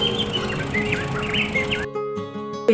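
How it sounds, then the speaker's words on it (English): Small birds chirping in a wetland floodway, several quick high twittering calls close by, followed by a brief burst of electronic or engine tone near the end. "Little birdies in there."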